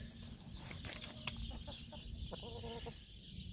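Chickens eating Scotcheroos, with faint clucks and soft irregular pecking clicks over a steady low background hum, quiet and somewhat distant.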